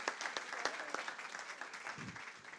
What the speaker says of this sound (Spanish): Un fuerte aplauso, que lo han hecho fenomenal.